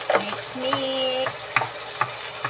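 Garlic shrimp with broccoli and carrots being stirred in a hot pan, a close sizzle with a few scraping strokes of a spatula.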